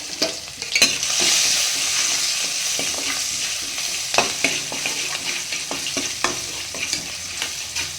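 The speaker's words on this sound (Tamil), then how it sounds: "நல்லா ஈரப்பசம் போகிற வரைக்கும் வறுக்கணும்" Crushed garlic and roasted gram fry in a pan with turmeric, a steady sizzle broken by repeated scraping stirs, close and fairly loud with no talking.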